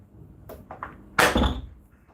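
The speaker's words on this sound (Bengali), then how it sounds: "দরজাটা আটকে দিয়েছি" A few light knocks and rattles lead up to a single firm thud as a door is pushed shut nearby, then quiet.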